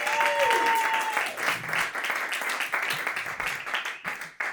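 An audience clapping at a comedy roast battle show in New York, a few seconds of dense applause that gradually thins, with a faint voice briefly over it at the start.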